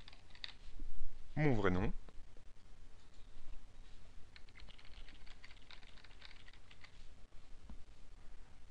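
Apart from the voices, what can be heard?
typing on a computer keyboard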